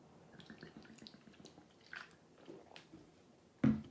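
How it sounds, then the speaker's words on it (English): A quiet sip of structured water, heard as soft, faint wet mouth sounds and small drips in a still room, followed by a sudden louder knock near the end. "So let's have a little sip here."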